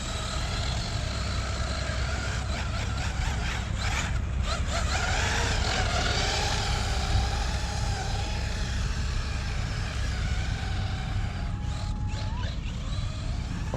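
An FSR Tank 6s RC monster truck drives and jumps, its electric motor whining and revving steadily throughout with brief surges and rattles, loud and close, with no talking.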